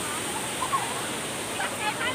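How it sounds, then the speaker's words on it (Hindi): Rushing water of the Gundichaghagi falls in Keonjhar, a dense, even roar heard nearby, with faint scattered voices in the background. "झरणार पानी साउंड बहुत बढ़िया चलती"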